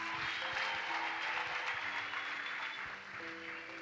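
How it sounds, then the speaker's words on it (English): People at a youth conference session clap for the panelists, making a brief, moderately loud burst of applause with faint tones sounding underneath. "People of God, let's just clap our hands for our panelists."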